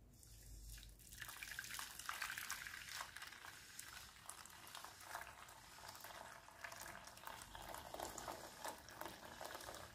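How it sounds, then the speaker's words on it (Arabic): Boiling water poured onto coffee, a continuous splashing, bubbling rush of liquid that runs steadily throughout at moderate loudness after a brief quiet start. "طيب دلوقتي بقى كده هنزل عليهم بكوبايتين ميه مغليه"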